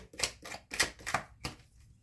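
Five quick riffling bursts close by, each a crisp papery flutter, with short pauses between them and silence at the end.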